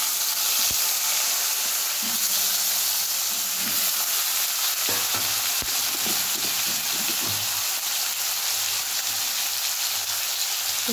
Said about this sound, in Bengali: তাহলে উচ্ছেটা আর আলুটা একটুখানি ভেজে নিই।